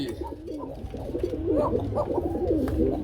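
An Arabian pigeon coos repeatedly, close by, in rolling throaty phrases that run continuously in a pigeon loft with eggs and breeding pairs.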